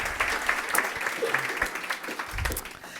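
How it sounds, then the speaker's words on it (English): Audience applause at the close of a seminar presentation, fairly faint and steady clapping from a seated crowd, heard from a distance with some room noise. "Let's give Finn and Anders a round of applause."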